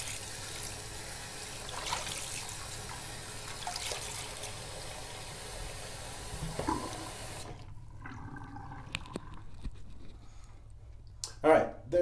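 Dirty, gritty water from an ultrasonic razor cleaner is poured out down a drain, giving a steady splashing flow for several seconds that stops abruptly. A few faint clinks and a short splash follow at the end, and a voice talks during the pour.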